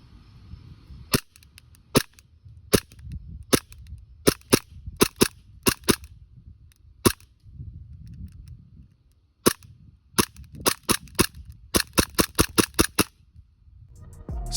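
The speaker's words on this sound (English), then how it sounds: "here's a couple clips of the gun just shooting so that you can hear and see what it's all about" EMG Hudson H9 airsoft pistol firing sharp, close, snappy shots, single and in quick strings of rapid pops, separated by quiet stretches with faint handling rustle.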